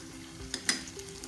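Green chillies sizzle faintly in a hot pan for a chicken yakhni pulao, with two sharp scraping clicks of a spoon stirring them through the oil over a low steady hiss.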